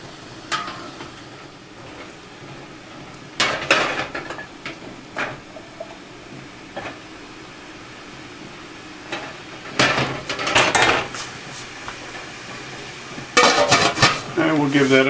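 Glass canning jars for apple sauce clink and knock inside a boiling-water canner: close, sharp rattling bursts in three or four clusters, separated by quieter stretches of bubbling kitchen noise.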